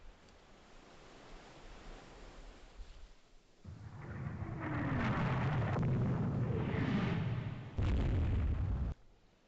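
Warship guns firing in Rule the Waves 3, a naval video game, heard as a deep rolling roar of heavy gunfire that builds after a low rumble, swells and holds, then ends with one sharp louder blast.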